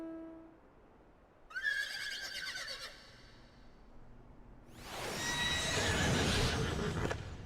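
A dragon horse in the farming game Sprout gives a bright whinnying neigh with a trailing flutter, then a louder rushing, wind-like burst follows, close and alone with no talk.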